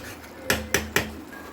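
Three quick metal clinks of a spoon against a kadai while tomato and green chilli paste is stirred in oil, evenly spaced and close, with a soft hiss underneath.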